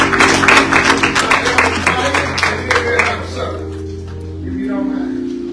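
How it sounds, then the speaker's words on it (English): Congregation hand-clapping in praise at a memorial service, a dense rhythmic burst of claps that thins and stops midway, with sustained organ-like tones underneath and voices nearby. "give him a hand clap of praise"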